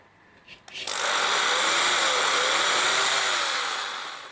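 A power drill whines steadily after a couple of brief clicks, its motor pitch wavering slightly as it bores into existing hardware holes in kayak trimaran pontoons, loud and close for several seconds.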